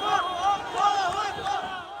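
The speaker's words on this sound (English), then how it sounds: "Outside the car, Hamas fighters and a huge crowd." A huge crowd shouts and chants in a dense roar outside a car at a Hamas handover of Israeli hostages to the Red Cross, the voices swelling in waves over two seconds.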